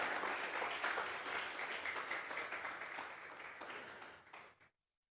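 A church congregation claps during a Sunday service, a faint, distant roll of applause that thins out gradually and then stops.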